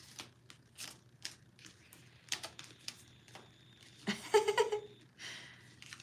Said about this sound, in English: That was not how I wanted to shuffle the cards.